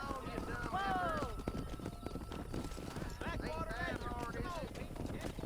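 Horse hooves clip-clop at a steady trot while cows are herded down a road in the Red Dead Redemption video game, with a horse whinnying and voices talking over the hoofbeats.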